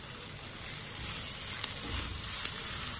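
Chopped onion sizzles steadily in a frying pan at home, a continuous close hiss with faint occasional clicks and no talking.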